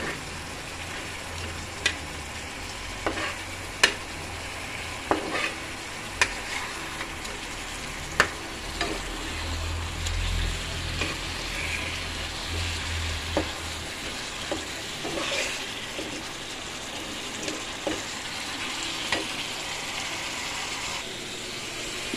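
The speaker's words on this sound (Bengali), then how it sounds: "মাছগুলোও দিয়ে দিলাম। মাছগুলো এপিট ওপিট করে, বেশিক্ষণ তো এগুলো ভাজার দরকার নেই।" Pieces of boal fish frying in a pan, a quiet steady sizzle broken by scattered clinks and scrapes as the fish are turned over, with no talking.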